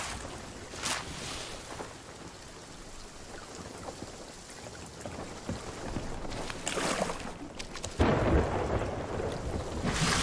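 A lightning storm at sea in the pirate video game Sea of Thieves brings steady rain hiss and rolling thunder, with a loud crack near the end and no talk over it.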